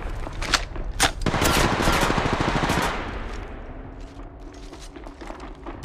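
Rapid automatic gunfire in the mobile shooter Apex Legends Mobile, a dense loud burst of cracking shots over the first few seconds, then fading into scattered pops and a ringing tail, with no speech.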